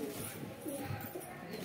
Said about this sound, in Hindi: ये देखो भाई, हमने अपने कबूतर खोल रखे हैं सारे